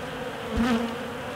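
Honeybees buzzing at an open UK hive of four seams of bees being treated for mites with Api-Bioxal, a close, steady droning hum with one louder bee passing near for a moment.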